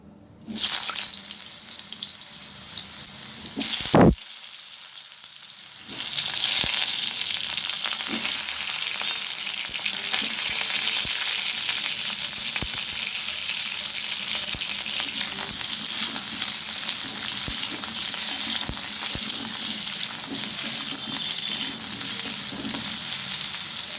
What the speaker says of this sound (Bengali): ওই তেলের মধ্যেই আমি এবারে কাঁচা কলাগুলো ভেজে নেব।